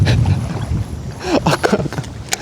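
A Shimano 25 Antares DC baitcasting reel casting with all external settings at maximum, giving a rising whine with whooshing line and wind noise over a couple of seconds, reportedly behaving abnormally.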